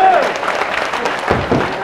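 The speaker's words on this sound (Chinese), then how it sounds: "好，请俾啲掌声啊！" Audience applause at an anniversary Wing Chun martial arts exchange evening, a short burst of clapping from a crowd blended with voices, loud and close.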